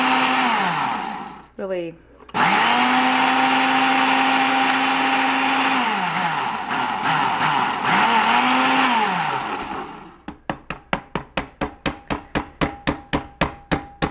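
A single-serve blender whirs steadily as it blends waffle batter, a loud continuous motor drone that briefly cuts out and restarts, then gives way to a string of sharp rhythmic clicks; a voice speaks briefly.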